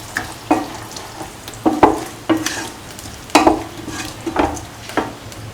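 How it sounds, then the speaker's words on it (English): A spoon stirs a beans and tomato stew in an oily pan, making a series of distinct scraping strokes at an uneven rhythm over a soft, steady sizzle, close up with no voices. "And mix thoroughly."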